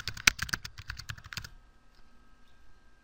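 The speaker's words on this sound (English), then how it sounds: "just type in your username" Quick typing on a computer keyboard for about a second and a half, a close, clicky patter of keystrokes that stops and leaves quiet room tone.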